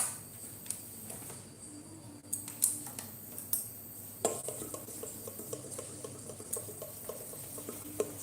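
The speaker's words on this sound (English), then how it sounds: "So I'm just whisking it up." A whisk scrapes and clinks against a bowl while beating vegan pancake batter, producing close, irregular ticking strokes over a soft background hum.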